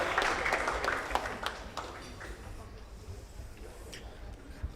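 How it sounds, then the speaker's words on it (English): An audience at an athletes-of-the-year banquet applauds parents, families and coaches, a dense round of clapping that is strongest at first and then thins into scattered claps under some talking. "give the parents and families and coaches a round of applause for all the support they've given them"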